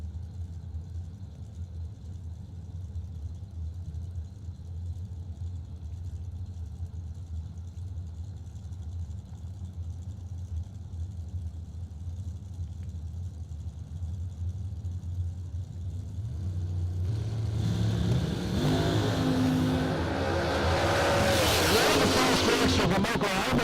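Dragsters at a SuperBucks Showdown drag race, one a fast car out of Oklahoma, idle with a low steady rumble before a loud, swelling engine roar bursts in near the end as the cars launch.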